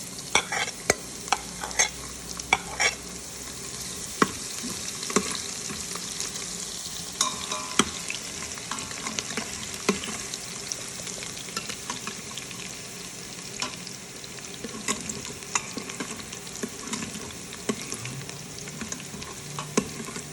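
Garlic sizzles in hot oil with browned cumin for an aloo rajmah sabzi, a steady crackling fry broken by the scrape and clatter of stirring, close and moderately loud with no voices.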